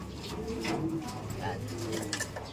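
Pigeon cooing in soft, repeated low coos close by, with a steady low hum and murmuring voices underneath throughout.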